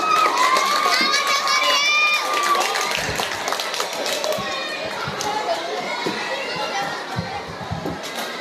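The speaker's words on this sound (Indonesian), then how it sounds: "Beri tepuk tangan yang meriah" A school audience at a language-month event and library opening bursts into lively cheering and applause, with children shouting and clapping loudly and continuously. A high, excited voice rises over the crowd at the start.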